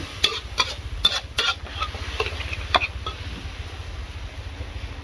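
Curry paste frying in a pan of hot oil as a little water goes in, a continuous sizzle with a few sharp spatter bursts and stirring scrapes, heard close with no talking.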